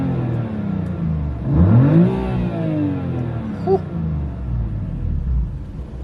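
BMW F80 M3 Competition engine revving hard from a steady idle rumble, rising in pitch to a peak and then sliding back down, heard close and loud with the low engine drone continuing throughout.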